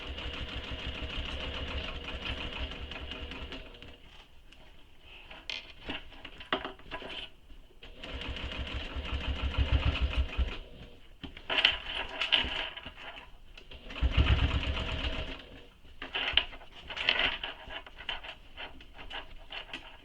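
A sewing machine stitches a satchel made from a busy printed fabric, its motor running in steady bursts that stop and restart with short pauses between runs, fairly close and alone without talk.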